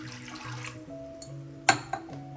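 Water poured into a pot of cowpeas for cooking, a brief splash and trickle heard over a steady background hum, with a sharp clatter partway through.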